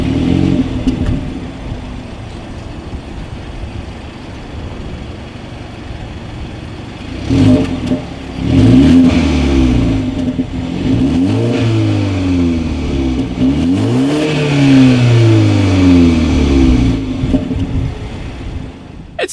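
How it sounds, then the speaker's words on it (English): A 2019 BMW 330i xDrive exhaust idles with a steady low hum, then is revved several times, each rev rising and falling loudly and close, with no voices over it. "As always, here is that exhaust clip."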